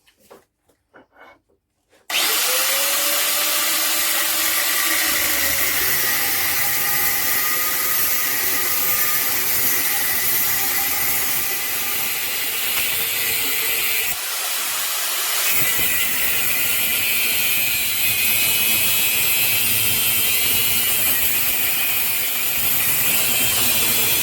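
A continuous loud, close grinding rasp as the ends are cut off a metal rear wheel spindle clamped in a vise, starting abruptly after a quiet moment and running steadily with one short dip midway.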